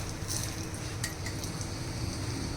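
Cashews, almonds, pistachios and poppy seeds roasting in ghee in a pan for laddu, a soft continuous sizzle with a spoon scraping and faintly clinking against the metal as it stirs.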